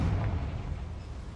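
Spell explosions from Bombarda and Confringo in the Hogwarts Legacy video game, a low rumbling boom that rolls on without a sharp attack and fades slowly over a little more than a second, with no talk.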